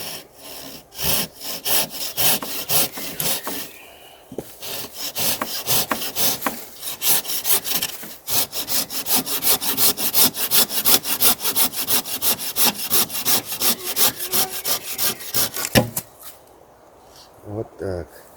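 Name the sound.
sawing a wooden branch with hand saw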